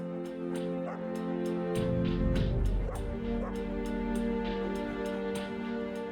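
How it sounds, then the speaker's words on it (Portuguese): A pet dog keeping close to an injured woman on a winter survival trek yips and whimpers in short bursts over a steady droning background, with faint voices underneath. "O único conforto para Danelli é a presença constante do seu cão."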